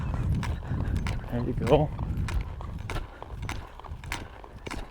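A mule loping kicks up soft, rhythmic hoofbeats on the ground, heard close and moderately loud, while a rider talks briefly over them.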